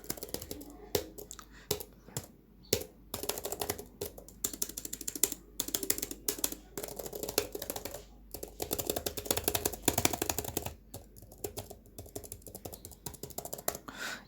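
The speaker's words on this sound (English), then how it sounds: "Let me see if you can hear the keyboard presses." Laptop keyboard keys being pressed in quick, irregular bursts of sharp clicks, close to the microphone, with brief pauses between runs of typing.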